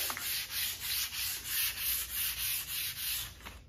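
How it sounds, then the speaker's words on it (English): Rhythmic back-and-forth sanding on wood, about a dozen even strokes in a row, close and moderately loud. "the first thing we're going to do is lightly sand our surface"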